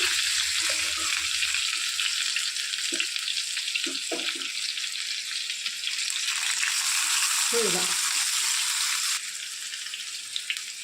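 Stuffed bitter gourds filled with peanut masala fry in oil inside a pressure cooker, giving a steady, dense sizzle throughout with a few soft clatters of a utensil along the way.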